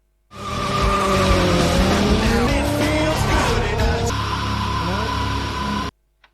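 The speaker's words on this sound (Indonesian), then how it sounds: "Brian dan Dom langsung melakukan tes drive kecepatan mobil itu." A car in a speed test drive from the Fast & Furious film roars past with screeching, skidding tires and a rising engine whine, loud and sustained before cutting off abruptly.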